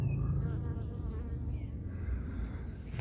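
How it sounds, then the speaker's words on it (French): Bees hum steadily among tall celery plants in a vegetable garden, a continuous close, fairly soft insect drone with no voices. "Et toujours des abeilles."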